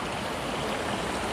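Rain-fed pond water spills over its bank onto a road in Kanyakumari and pours down like a waterfall, making a dense, steady, close rushing roar.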